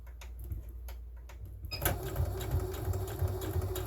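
Sewing machine stitching decorative party bunting fabric with a small seam allowance, starting after a quiet pause and then running as a steady, close mechanical whir with a light rhythmic ticking.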